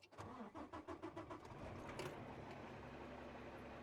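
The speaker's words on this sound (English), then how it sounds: "We are going to start our truck to make sure that we have enough pressure" A truck engine cranks with a rapid rhythmic churn and catches, settling into a steady loud running rumble, heard up close during a pre-trip air brake pressure check.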